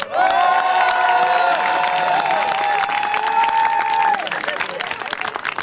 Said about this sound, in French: j'ai nommé Ramili, qu'on peut bien applaudir